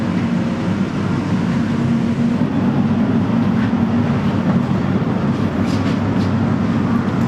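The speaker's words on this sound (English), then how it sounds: "This train is really long." A long Elizabeth Line train at a London station gives a steady, loud low rumble and hum throughout, with constant broadband rail noise and no clear voices.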